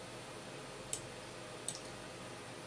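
Two crisp, quiet computer mouse clicks spaced under a second apart, close up over a faint background hiss.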